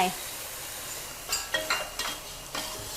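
Minced pork and tofu with basil are stir-fried in a pan as sauce is added, with a soft sizzle under a series of utensil scrapes and clinks against the pan.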